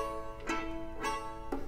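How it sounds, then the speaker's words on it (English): Solo violin in scordatura tuning, twangy in tone, three soft bowed notes at a steady pace, fairly quiet and close, with no talking. "One is called scordatura tuning, in which the violin sounds like this."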